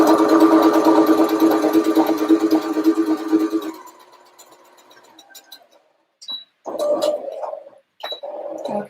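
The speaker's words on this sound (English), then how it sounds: "So now I've switched to straight stitch, and I'm just going to close up that gap that we left in the skirt and waistband" A sewing machine runs a straight stitch to close a gap in a skirt waistband, a steady close whir for several seconds that then stops, followed by a few short bursts of stitching with pauses between.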